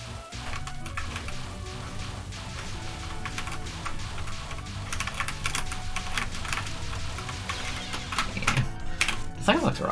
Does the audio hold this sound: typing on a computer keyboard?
yes